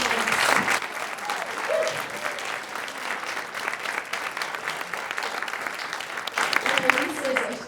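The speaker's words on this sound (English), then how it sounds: "We want you to come over there for a good round of applause and thanks" A crowd at a corporate salute event gives a lively, continuous round of applause, loud and steady throughout, with scattered cheers and voices mixed into the clapping.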